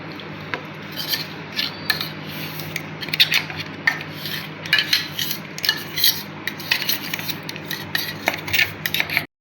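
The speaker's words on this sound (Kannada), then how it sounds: "ಇವಾಗ ಒಂದು ಬೌಲಿಗೆ ಹಾಕೋತಾ ಇದ್ದಾರೆ." Ground cake batter being scraped and spooned from a grinder jar into a bowl for a homemade cake, with close, irregular scraping, rubbing and light utensil clinks throughout over a low steady hum.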